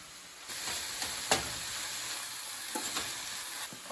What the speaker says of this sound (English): we're going to add the spinach, and this just cooks for about another 2 minutes or so until it wilts